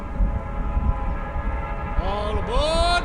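A train horn or whistle blasts twice near the end of the clip, over a steady low rumble of rolling railway cars bound for Sleepy Hollow out of New York City.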